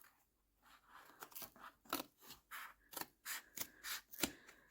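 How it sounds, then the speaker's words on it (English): Scissors snipping through packaging in a series of sharp, close cuts with short pauses between them, no talking. "Use the scissors here."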